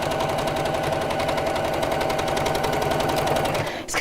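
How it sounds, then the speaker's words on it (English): A sewing machine runs steadily, top stitching around a fabric bag, its needle producing a fast, even mechanical rattle throughout before stopping with a small clunk at the end. "So again, just top stitching around here."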